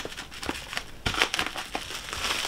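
Crinkling and rustling of plastic wrapping as a mailed book package is pulled open without scissors, with irregular crackling bursts close by and no talking.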